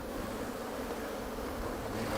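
Honeybee colony buzzing steadily as a beekeeper splits the hive, a dense continuous hum of many bees close by with no voices over it.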